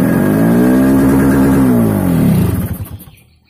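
A Yamaha RX King motorcycle engine runs loud and close with a steady, harmonic idle that swells into a rev, then cuts off and fades to silence at the end. No one speaks.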